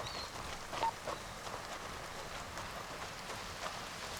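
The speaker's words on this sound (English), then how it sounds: "the rain looks even better while you're in the jungle" Steady rain in a video game jungle patters across foliage in a dense, humid setting, with a continuous soft hiss and scattered drips, faint and unbroken throughout.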